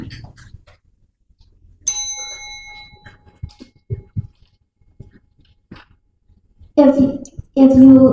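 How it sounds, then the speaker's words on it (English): A debater at a school debate competition strikes a bell once, giving a bright, clear ring that fades over about a second, followed by small scattered knocks and a voice starting to speak. "You ring the bell."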